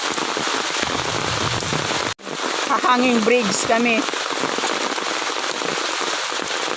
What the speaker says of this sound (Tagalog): Lakas ng lakas ng ulan.